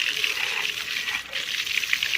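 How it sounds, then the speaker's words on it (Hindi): Clear water from a borewell pours and splashes in a steady, continuous stream, close and moderately loud, with no talking. "देखिए माशाल्लाह कितना साफ सुथरा पानी आता है"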